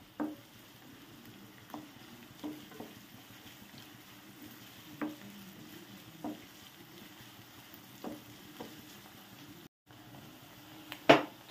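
Two onions frying in a pan for a brinjal and raw mango curry, a soft continuous sizzle broken by several sharp knocks of a spoon stirring against the pan.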